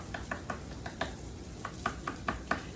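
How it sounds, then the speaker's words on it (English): A spoon scrapes and taps against a bowl while pickle juice is stirred into homemade tartar sauce, a series of light, quick clinks repeating irregularly, close and quiet, with no talking. "just kind of stir that up really well"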